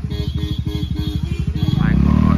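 A motorbike on a jungle road draws nearer, its engine a loud, steady, close chugging pulse that quickens and rises as it approaches, with a voice speaking over it.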